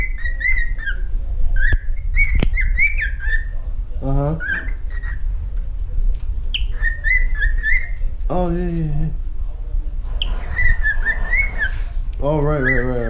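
A pet bird whistling and chirping up close, repeated clear rising whistles and short chirps in a loose rhythm, with a person's voice breaking in briefly over a low steady hum.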